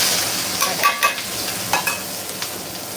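Onions and spices stir-fried in oil for Persian-style tom yum fried rice, a steady close sizzle with a few sharp metallic scrapes and clinks of the utensil against the pan.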